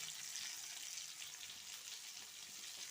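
Cooking oil sizzles in a hot wok (kadai), a steady, even hiss with no breaks, fairly quiet and heard on its own.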